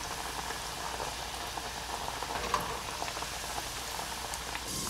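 Chicken vada patties frying in hot oil, a steady dense sizzle and bubbling that holds evenly throughout, close and moderately loud, with no talking.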